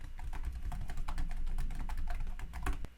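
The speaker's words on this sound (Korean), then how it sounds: "키보드로 다른 이름으로 입력하셔도 됩니다." Rapid clicking of a computer keyboard as a file name is typed, a steady run of light keystrokes over several seconds, close and alone with no talking.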